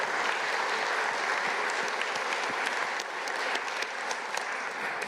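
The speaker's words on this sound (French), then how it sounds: "on peut vraiment applaudir Hamdi, Alexis et tous les volontaires" A crowd applauds the volunteers at a climate finance event at UNESCO, with steady, dense clapping sustained throughout at an even level and no talk over it.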